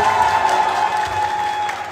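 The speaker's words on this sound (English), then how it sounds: "One more round of applause for them," Audience applause for performers at an Afghan culture day event at the American University of Central Asia, a dense, steady clapping crowd with a faint steady tone underneath, loud and continuous.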